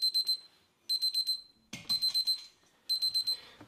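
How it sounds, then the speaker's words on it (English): A TP16 wireless grill thermometer sounds its temperature alarm: four bursts of rapid high-pitched electronic beeps, each burst a quick run of four or five beeps separated by short pauses, close and clear with no talking. "We're now going to demonstrate the TP16 and its alarm."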